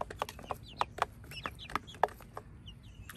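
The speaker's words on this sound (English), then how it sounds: "My baby chicks haven't ate in about for 5 hours, and they're already going crazy right now." Hungry baby chicks chirping and peeping in a brooder tub, a quick irregular run of sharp high cheeps at close range over a low background hum.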